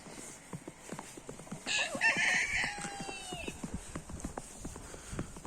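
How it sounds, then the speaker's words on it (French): Hens, including a small Cayenne hen, cluck and a rooster calls nearby in a backyard poultry yard amid scattered outdoor knocks and rustling, with a brief high squawk in the middle. "une petite poule cayenne, 3 poules pondeuses avec le coq"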